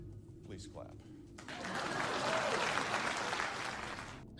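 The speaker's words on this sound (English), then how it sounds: "Let's get a clap in chat for Nice Biscuit." Applause for a stream subscriber, a broad wash of clapping that swells in after a brief spoken word and holds for about three seconds before cutting off.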